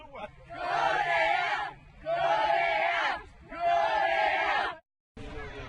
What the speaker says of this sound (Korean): 관중들이 하나둘 모이면서 한산했던 루블린 경기장이 시끌벅적해집니다